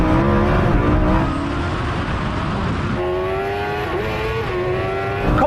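A Kawasaki H2R motorcycle and a twin-turbo Lamborghini Huracán accelerate hard in a drag race, engines roaring loud and close with rising harmonic whine that steps up through gear changes over several seconds.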